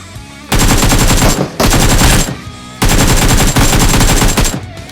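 Rapid automatic gunfire in the video game PUBG Mobile, loud and close, fired in three long sustained bursts separated by short pauses.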